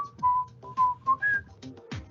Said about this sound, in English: submit a genetic sample, and whistle a tune